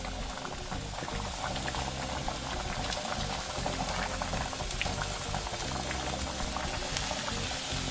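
A pot of dal simmering on the stove, bubbling loudly and continuously at close range with no pauses or voices.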